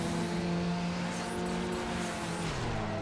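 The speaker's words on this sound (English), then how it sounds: "I did a burnout whenever I hit my nitrous" A street-racing car in Need for Speed: Underground spins its tires in a burnout on hitting nitrous, a loud, dense screech layered over a high engine roar that holds steady, then drops slightly in pitch near the end.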